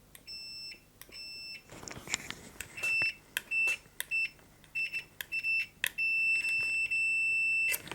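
Sharp, high electronic beeps from a HoldPeak HP-38B multimeter in continuity test mode sound in short bursts, then longer sustained tones, each starting and stopping abruptly against a faint background of handling noise.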